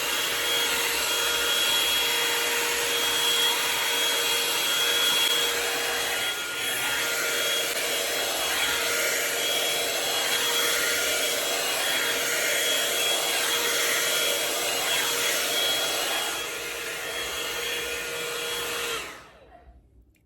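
A hair dryer blows steadily while natural hair is blow-dried straight before flat ironing, a loud continuous whooshing roar close by that stops abruptly near the end.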